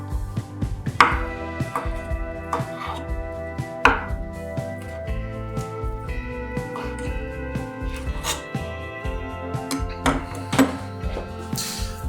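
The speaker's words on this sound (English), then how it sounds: "pull all of the meat from the smoked turkey leg and roughly chop or shred it" A knife chops smoked turkey leg meat on a cutting board in irregular, close thunks and clicks, some strikes landing harder than others, with no voices.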